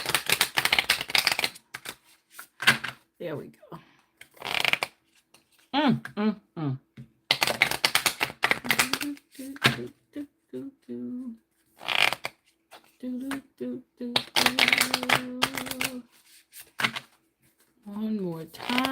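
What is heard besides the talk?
shuffling tarot cards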